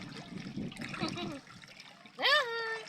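Shallow, clear seawater at Santa Ana, Calatagan, Batangas splashes and trickles lightly close by at a beach hangout, with people talking over it, then a high sweeping voice-like whoop near the end.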